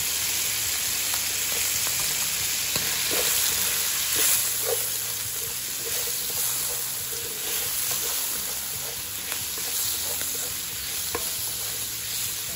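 Shrimp frying in a pan with vegetables: a steady, close sizzle with faint crackles and occasional soft stirring scrapes, continuous throughout with no talking.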